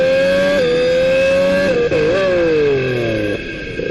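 An Aston Martin Honda Formula 1 race car at the 2026 Australian Grand Prix gives a loud, close, high-pitched engine whine that holds steady with brief dips and shifts in pitch, heard alone.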